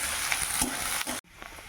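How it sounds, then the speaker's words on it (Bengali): Sliced onions frying in oil in a pan, a steady dense sizzle close up that cuts off abruptly partway through, then a quieter hiss. "এই যে পেঁয়াজ দিয়ে দিলাম এবার একটু আধা ভাজা করে নেবো"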